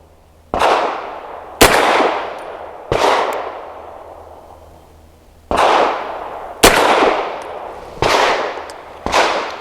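Seven sharp pistol shots from an American Precision Firearms Arsenal Strike One firing Hornady Critical Defense Light 100 grain ammunition, loud and close, spaced unevenly with ringing decays between them and no talk.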